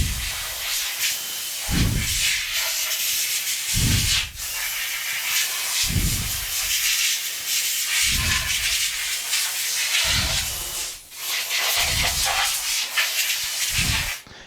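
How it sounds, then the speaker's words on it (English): Air hose blowing chips off a machine table: a continuous loud hiss broken by regular low thumping pulses about every two seconds, close up and with no talk. "I can then come in with the air hose"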